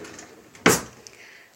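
A kitchen drawer slides and shuts with a single sharp knock midway, followed by a faint small clink, in a quiet room.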